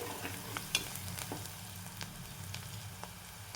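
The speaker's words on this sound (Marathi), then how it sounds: "आपला कांदा छान सोनेरी भाजला गेलेला आहे" Chopped onion frying to golden in a pan for bitter gourd curry, a steady low sizzle with faint occasional clicks of a spoon, close but quiet, no speech.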